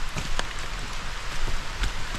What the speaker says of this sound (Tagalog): Malakas-lakas tong ulan na to